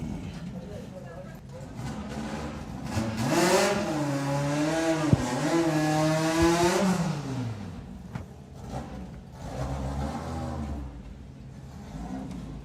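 Drag racing cars from a doorslammer event launch side by side and accelerate hard down the strip, engine roar rising and falling in pitch under continuous commentary by an announcer.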